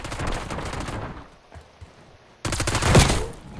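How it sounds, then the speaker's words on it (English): Shotgun fire in the Call of Duty video game: a loud burst of gunfire, a quieter gap with faint thuds, then another heavy blast with a sharp, close report, with no talk. "These shotguns, bro."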